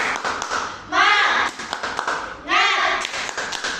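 A primary school class does a rhythmic spirit clap together, two quick bursts of group clapping about a second and a half apart, mixed with voices chanting between them.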